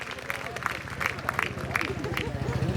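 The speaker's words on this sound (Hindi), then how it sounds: "सभी माताओं बहनों से, साथियों से जोरदार तालियां बजाकर स्वागत करें मेरी बात का।" Crowd at an outdoor political rally in a village school ground claps and applauds steadily, a dense patter of hands with scattered sharper claps and low murmuring underneath.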